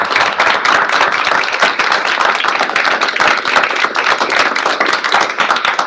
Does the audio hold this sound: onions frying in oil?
no